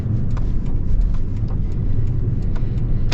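A 2017 Toyota Sequoia driving over a bump, heard from inside as a steady, loud low road rumble with faint knocks and thumps from the suspension, no talk.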